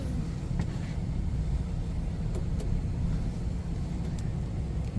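A vehicle is driven slowly forward over rough ground near a shop and rocks, giving a steady low engine rumble with faint crunches and knocks throughout.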